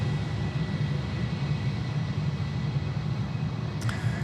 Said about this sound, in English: This Jetstar, mind you, is coming down on taxiway Charlie right in front of us